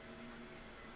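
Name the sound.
vacuum cleaner running in the background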